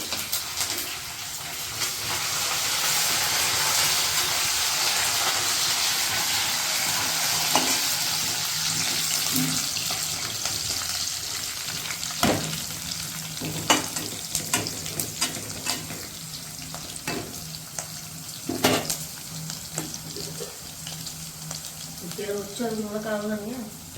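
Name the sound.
green chilies and onions frying and being stirred in a pan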